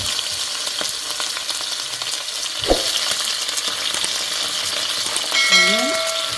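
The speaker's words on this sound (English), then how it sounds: "Onion and pepper in the pot." Onion and pepper frying in a pot, a strong, steady, close sizzle running throughout with a single knock partway and a brief tonal squeak near the end.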